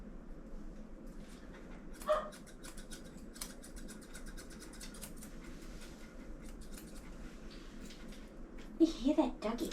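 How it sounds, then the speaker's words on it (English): A dog barks a few times in the background of a grooming session, where a badly matted small dog is being shaved down with clippers, under steady talk from the groomer. "You hear that doggy barking?"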